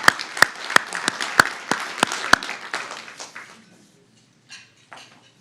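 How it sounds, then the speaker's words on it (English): Applause from a gala audience honoring past presidents at an anniversary installation, with sharp loud claps standing out over a dense crowd patter that fades out after about four seconds. "All right, round of applause"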